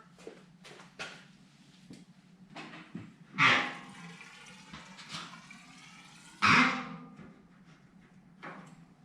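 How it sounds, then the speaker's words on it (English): White spirit sloshing and gurgling inside a motorcycle fork tube during a rinse, several splashy liquid bursts with quieter handling clatter between them, close by with no talking. "Just get a bit of the white spirit in it."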